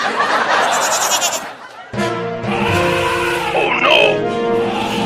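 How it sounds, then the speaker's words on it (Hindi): A cartoon goat bleats in a comic, wavering voice, loud and close, after a burst of rushing noise and a sharp cut, with a voiced, laugh-like quality. "अब बकरी पर बैठ कर जाऊंगा।"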